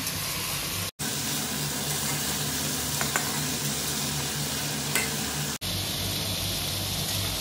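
Ridge gourd and potato pieces sizzle and fry steadily in a hot pan, a loud continuous crackle with a few brief breaks in the sound.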